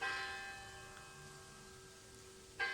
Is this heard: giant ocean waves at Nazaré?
no